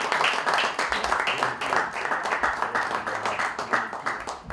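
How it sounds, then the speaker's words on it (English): Audience clapping and applause at a sports NGO event, a dense steady patter of many hands lasting several seconds, fairly close and loud. "big round of applause for Pranav Rohira"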